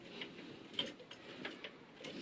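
Suzuki SV650 engine crankshaft being turned by hand with a socket on the alternator, giving faint, soft mechanical clicks and ratcheting ticks at irregular intervals over low background hum.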